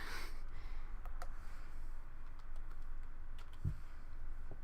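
Someone types on a separate computer keyboard set up beside a laptop. Scattered soft key clicks tap out at an irregular pace against quiet room noise. The typing is faint and close, with no talking.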